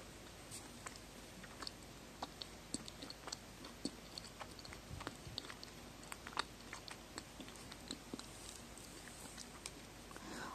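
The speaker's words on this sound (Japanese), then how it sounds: "結構噛み応えがあるので、噛めば噛むほど味わえるというような感じ。" Chewy homemade dried fruit from a food dehydrator being chewed close to the mic, with soft irregular crunchy bites and clicks repeating over a quiet background hiss.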